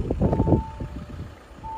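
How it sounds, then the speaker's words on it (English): An Audi A4 TDI S-Line S tronic chimes with its door-open warning: a steady electronic tone that stops, then starts again, while someone talks close by. "I'll just shut the door so it stops beeping at me"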